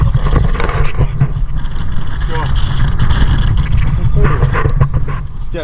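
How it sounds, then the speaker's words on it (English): Wind gusting across an exposed hilltop near Ambuluwawa Tower in Sri Lanka, a steady loud rumbling buffet on the microphone that continues throughout, with faint voices in the background. "The wind's kicking off now"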